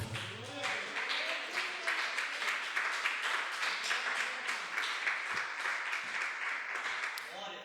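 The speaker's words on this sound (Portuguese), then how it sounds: "Vamos exaltar e aplaudir ao Senhor." A church congregation applauds in praise, a dense, steady patter of many hands clapping that holds for the whole stretch, with a voice speaking over it at the start.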